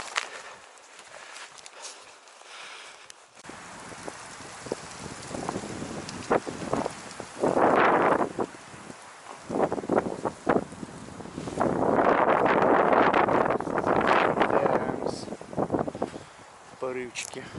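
Strong, gusty autumn wind roars through a forest in surging bursts, buffeting the microphone, with footsteps and rustling in the quieter gaps and someone speaking at times.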